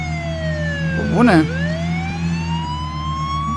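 A police siren in a VR video game wails close behind, with a rising-and-falling sweep that swells loud for a moment then continues steadily; someone talks briefly over it.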